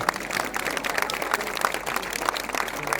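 Steady applause from a crowd at a French cross-country eliminator mountain bike championship, a dense wash of clapping with some individual claps standing out, continuous for a few seconds with no talking.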